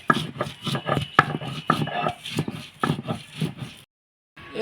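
Coriander leaves, green chilli and salt being ground into a paste, heard as close rhythmic rubbing and scraping strokes in quick bursts, ending in a brief pause.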